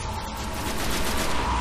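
Spire turret weapon firing in the video game Destiny during a Vault of Glass raid, a dense continuous stream of rapid shots with a rhythmic pulsing texture, loud and sustained throughout.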